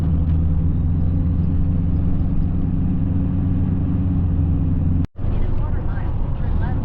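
Steady low engine rumble and road noise from inside a vehicle driving on a rural road, continuous throughout, with a brief dropout near the end.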